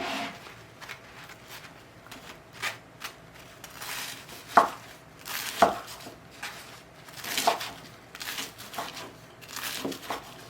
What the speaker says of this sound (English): what we want to do now is cut up this bread into cubes